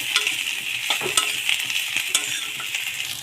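Eggplant pieces fry in hot oil with a steady, close sizzle, broken by occasional light clinks of a spoon stirring the pan.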